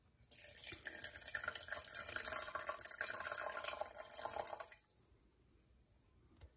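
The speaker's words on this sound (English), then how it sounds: "put the acid so it totally covers the paper clips" Acid poured over paper clips in a lab container makes a close, steady splashing pour for about four seconds before stopping abruptly into quiet.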